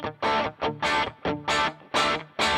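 Heavily distorted electric guitar chords through a Pod Go, from weak pickups, struck in short, loud stabs, about six of them with brief gaps between, played alone and up close.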